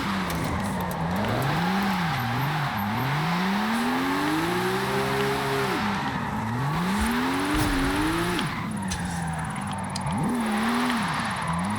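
Volkswagen drift-tuned car in a racing video game, engine revving hard in first gear with rising and falling pitch sweeps, sustained and loud with tire noise underneath.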